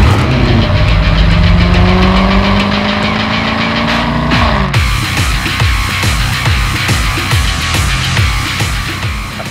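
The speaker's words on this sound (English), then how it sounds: "listen to this for an engine note" Jaguar F-Type sports car engine revving hard on a drive, rising through the gears with a sharp upshift midway, then a loud rhythmic burbling, crackling exhaust note close to the microphone.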